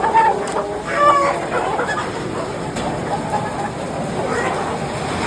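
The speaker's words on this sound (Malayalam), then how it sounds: "ഇവിടെ വേറെ നമ്മുടെ കുറേ കോഴികൾ കിടപ്പുണ്ട്." Heavy broiler chickens, mostly hens, cluck in a dense, continuous chorus inside a poultry farm shed, close and fairly loud, with occasional louder squawks over a steady background din.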